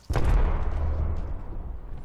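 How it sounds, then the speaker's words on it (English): An arc star grenade exploding in the video game Apex Legends, a single sudden boom with a sharp onset that rolls into a low rumbling, crackling decay lasting about two seconds. "Throw an arc star."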